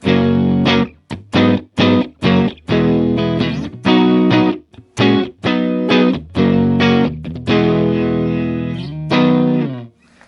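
An electric guitar's crunchy, overdriven tone breaks up as chords are strummed in short, choppy bursts, then held, loud and close with no talk.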